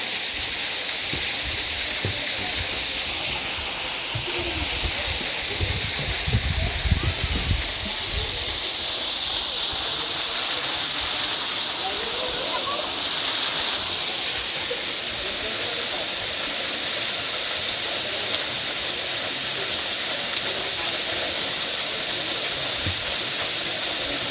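Steady rushing water roars without pause, a dense broadband hiss of a waterfall in Zambales, Philippines, with faint voices briefly audible beneath it.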